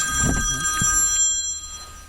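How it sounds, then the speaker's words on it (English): A telephone rings loudly in a room during an interview with the artist Anselm Kiefer. The bright electronic trill sounds once and then fades into quiet. "The phone rang again."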